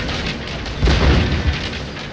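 Cannon fire in the video game Shogun 2 lands as a loud, close, rumbling boom with a brief second thud, heard alone.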